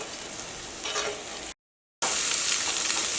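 Carrots and beans frying with onions in a pan, a bright, steady sizzle that cuts out briefly and then returns louder and harsher.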